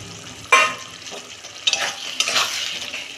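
Prawns going into a hot pan with potato and eggplant, a sudden sharp sizzle burst followed by louder crackling frying and stirring, close and alone with no talk.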